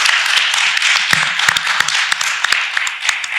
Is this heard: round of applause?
yes